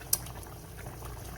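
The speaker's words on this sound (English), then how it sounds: "it's boiling" A Dutch oven of rib stew boils steadily at close range, with a constant low bubbling rumble and one brief sharp click near the start.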